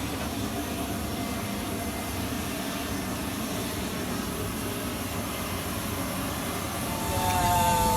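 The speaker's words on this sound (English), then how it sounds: "we are buckling in and getting ready to take off." Steady, loud aircraft cabin drone fills the interior before takeoff on a troop flight, an unbroken engine and ventilation roar that swells slightly at the end, with no clear talk.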